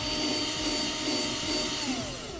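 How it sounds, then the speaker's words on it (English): Power drill boring mounting holes in a plastic ATV storage bin on a 2006 Yamaha Kodiak, a steady close whirring hum running throughout with a slight pitch drop near the end and no talk. "with those marked, we're going to take it down and drill out our holes."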